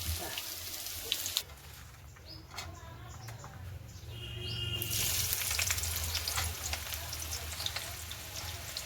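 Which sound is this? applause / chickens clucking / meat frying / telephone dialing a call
meat frying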